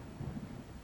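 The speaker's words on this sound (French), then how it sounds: "il y a un orage" Thunder from a thunderstorm outside rumbles low and muffled, a brief distant roll with no voices.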